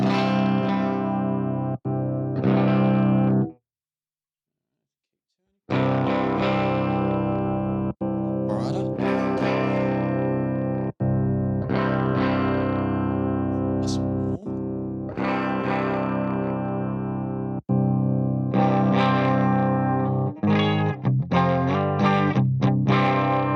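Distorted electric guitar riffs through a Solid Studio amp simulator, loud and close, played in bursts with a brief silent pause early on and chopped chords near the end.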